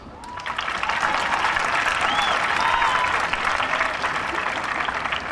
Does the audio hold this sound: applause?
yes